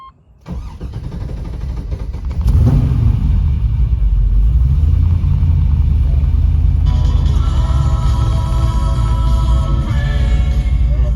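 A 1981 Pontiac Trans Am engine starts, then settles into a loud, deep, steady rumble while the car drives, with a constant low droning exhaust tone heard up close throughout.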